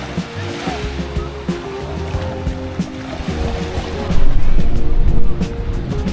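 Sea surf rolling in at Lucky Beach in the Hundred Islands, a steady wash of waves with a louder surge near the end, under wind and faint background voices.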